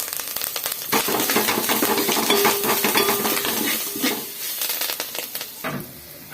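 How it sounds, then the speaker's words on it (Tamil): Spices sizzling and sautéing in a hot pan for crab rasam, a steady crackling hiss with metallic scrapes of a spoon stirring now and then. "இது எல்லாத்தையும் சேர்த்து நல்லா வதக்கிக்குவோம்"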